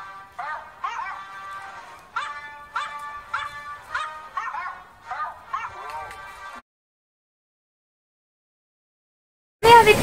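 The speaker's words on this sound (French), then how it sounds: "Avec Lola, un petit chien, pour vous montrer qu'on peut le faire avec" A small dog yaps in a quick series of high, sharp barks, steady and close, then silence before a brief loud burst at the end.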